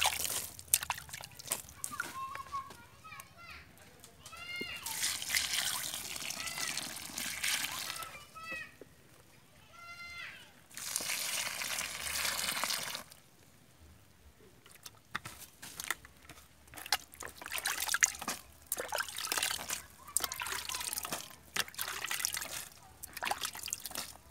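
A potted Anting Putri bonsai being watered: water splashes and trickles in intermittent bursts, with pauses and scattered drips and clicks in between.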